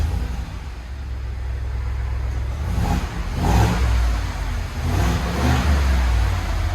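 A 2021 Ford F-350 Super Duty with the 7.3L gas V8 and stock exhaust runs at a fairly subdued level, with a low engine rumble and a couple of brief revs rising partway through.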